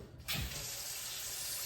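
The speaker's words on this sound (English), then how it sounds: "I'm gonna have to use sink water for this" A kitchen sink tap is turned on while cooking spaghetti, a brief thump and then a steady stream of running water, close and alone.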